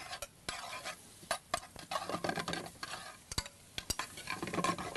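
Garlic, onions and peppers sautéing in butter, a soft close sizzle broken by irregular stirring scrapes and utensil taps against the pan, with no talking.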